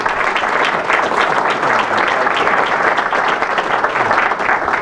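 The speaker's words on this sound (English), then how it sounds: "Let's give him a round of applause" An audience claps for George, a geologist about to speak, producing a thick, uniform wash of applause from many hands that stays loud and steady from start to finish.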